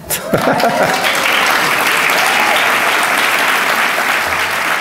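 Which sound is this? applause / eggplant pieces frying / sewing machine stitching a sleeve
applause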